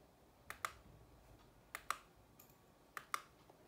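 Computer keyboard keys tapped while entering a date and time, heard as three quiet pairs of crisp clicks spaced about a second apart over a soft room hiss.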